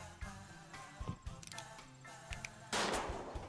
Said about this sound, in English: Oh wow, I just kept shooting there, didn't I?